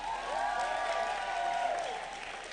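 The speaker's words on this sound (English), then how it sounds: "give them a round of applause" Audience at a grand final pageant event applauding sponsors, a steady wash of clapping filling the room for over two seconds with a faint tonal musical layer underneath and a slight fade at the end.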